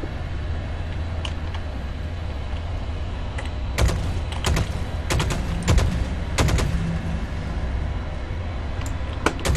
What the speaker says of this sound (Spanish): Disparos, pero no es ya.